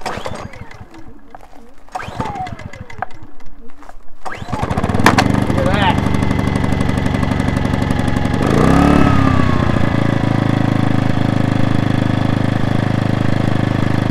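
An old marine engine on an abandoned 30-foot Allied Seawind sailboat cranks in cold weather around 40 degrees, then catches and settles into a loud, steady idle that runs on to the end.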